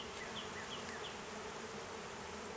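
Honeybees at a hive buzz steadily in a dense, continuous drone, close by and fairly loud, with no voices, while being dusted with powdered sugar.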